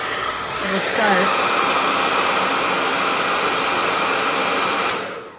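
A WADODO ionic 2200W hair dryer switches on and runs with a steady, loud broadband blowing roar that swells within the first second, holds evenly, then cuts off near the end.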